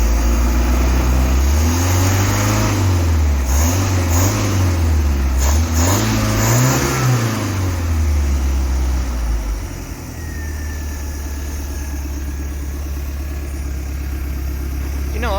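A Starcraft boat's engine runs steadily near at hand, its low droning hum rising and falling in pitch with a few revs before settling into a smoother, quieter idle.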